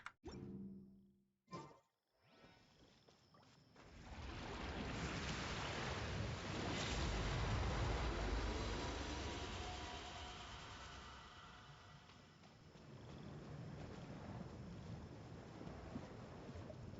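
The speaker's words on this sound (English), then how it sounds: "I love listening to the rain from the courtyard." Rain falls in a courtyard in the video game Genshin Impact, a dense continuous hiss that swells after a few seconds, stays loud and full, then eases slightly toward the end.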